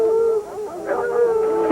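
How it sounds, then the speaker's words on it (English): Fox hounds bay at night after chasing a fox on a ridge, a sustained mournful howling tone with rising and falling voices, fairly close and clear with no talk. "Hounds make sweet music"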